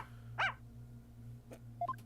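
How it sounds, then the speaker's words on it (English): A dog in the Ace Attorney video game gives one short bark, followed by a few faint yips over a low steady hum. "It's a dog."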